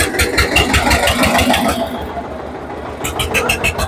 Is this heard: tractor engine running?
yes